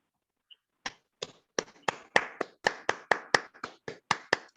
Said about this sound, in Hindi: तो सभी साथी शानदार तालियों के साथ इनवाइट करते हैं